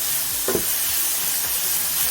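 Sambal, onion and garlic are stir-fried in a pan with a constant loud sizzle, broken by a few scraping stirs of the spatula.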